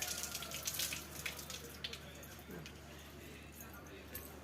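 Guava fruit rinsed under a running kitchen tap, a faint, steady trickle and splash of water with soft handling noises, with people talking in the background.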